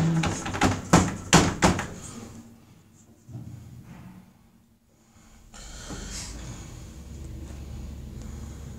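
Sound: Otis lift doors closing

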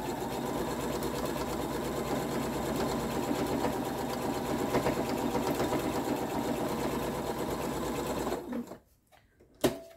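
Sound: sewing machine stitching binding onto an oven mitt

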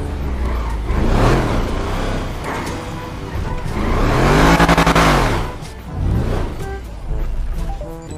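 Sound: car driving and drifting in video game GTA V

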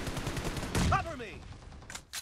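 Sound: gunfire in the video game PUBG Mobile

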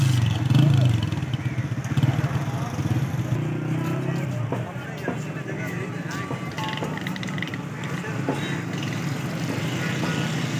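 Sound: unregistered motorcycle stopped by police

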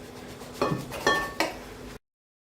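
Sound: cutting pastry in a baking tray with utensil

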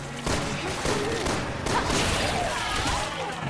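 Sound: gunfire in video game Resident Evil 6

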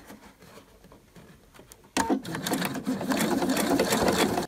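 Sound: sewing machine stitching a market bag lining

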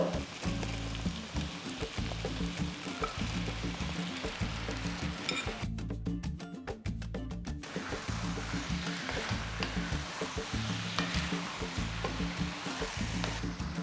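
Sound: bone-in chicken pieces frying in pan

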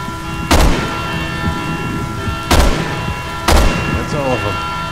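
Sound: gunfire in video game Resident Evil 6

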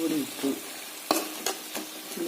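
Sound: chicken frying and being stirred in roasted coconut

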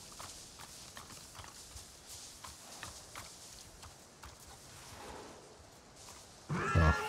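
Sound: horse sounds in video game Avatar: Frontiers of Pandora

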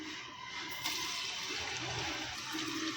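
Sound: chopped onions sizzling in hot oil in pressure cooker

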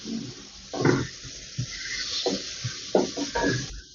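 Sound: sautéing spices in a pan for kola urundai curry

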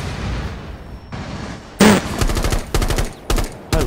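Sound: gunfire in the video game Rainbow Six Siege

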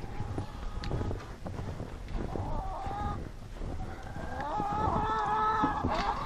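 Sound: startled chicken clucking

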